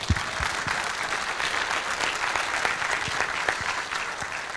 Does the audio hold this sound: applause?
yes